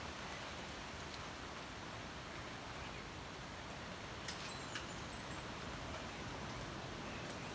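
Steady rain falling in a forest at Bangkong Kahoy, Kinabuhayan, Dolores, Quezon, a continuous even broadband wash with a couple of faint brief drips or splashes partway through, no talking.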